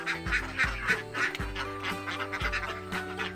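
Ducks on a small duck farm quack in a rapid, overlapping chorus, loud and close, with repeated harsh calls and no talking.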